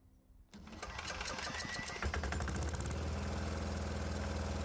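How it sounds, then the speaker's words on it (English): A diesel engine cranks and catches, then settles into a loud, steady, rapidly knocking run that holds throughout. "let's fire the engine up and see if it's still having problems"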